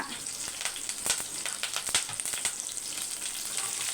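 Green chillies and curry leaves sizzle steadily in hot oil, a close, dense crackling hiss with scattered sharper pops and light stirring, continuous throughout.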